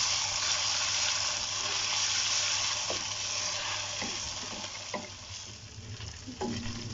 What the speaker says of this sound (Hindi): अब इसमें लहसुन अदरक का पेस्ट डाल दूंगी। अब इसको भी अच्छे तरीके से भून लेना है।